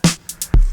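A single crisp 707 snare hit, sharp and noisy, among sparse drum-machine hits with a deep kick nearby.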